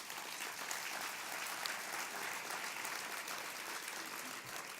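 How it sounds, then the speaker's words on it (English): Audience at a depression center's annual luncheon applauds continuously, a dense, even clapping that holds steady throughout with no speech over it. "So give George a round of applause as well."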